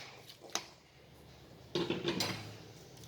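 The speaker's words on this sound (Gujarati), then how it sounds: "હવે આપણે આનાથી ચમચાથી દાબીને સહેજ ક્રશ કરીશું" A spoon pressing down and crushing boiled peas and samosa filling in a pan, with a few soft scraping knocks against the metal, quiet overall.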